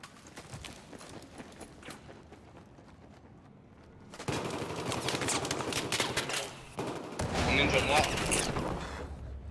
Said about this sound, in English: I'm shooting all over the place.